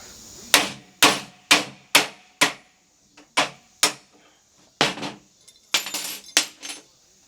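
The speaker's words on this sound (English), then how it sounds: "Guess I'll use the big hammer" Heavy blows from a big hammer on a saw blade ring out one after another, about a dozen sharp metallic strikes in a steady rhythm with short pauses, loud and close.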